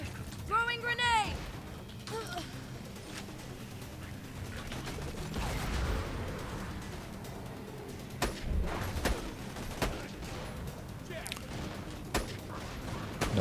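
A grenade goes off amid gunfire in Borderlands 2, with scattered shots, impacts and mechanical clatter over a rumbling backdrop.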